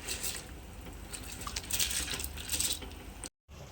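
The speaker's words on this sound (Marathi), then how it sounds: "आता हा सोक केलेला राईस आहे, आता आपण तो ह्यामध्ये टाकूया" Soaked rice grains pour into boiling water with a brief rattling patter and splashing over a low steady bubbling, then a short cut.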